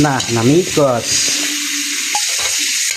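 Vegetables sizzle and frying in a pan while being stirred, a steady loud hiss with brief scraping, after a few words of speech at the start.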